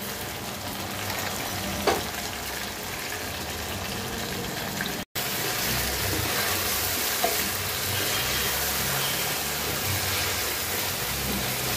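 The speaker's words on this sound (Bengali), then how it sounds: "ভাজা ভাজা করে কষানোটা কিন্তু হয়ে গিয়েছে চিকেনটা।" Chicken for a spicy capsicum dish is stir-fried in a pan, giving a steady sizzle with stirring scrapes and a brief break partway through.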